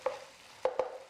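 Ginger paste frying in a pan for coconut milk rice, three quick soft scrapes of a spoon stirring over a faint sizzle, close and quiet, with no talk.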